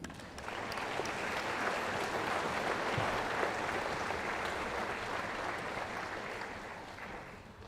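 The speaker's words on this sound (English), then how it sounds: "round of applause for Renee." Steady applause from a crowd at a funeral service, sustained clapping that fades slightly toward the end, with no one speaking over it.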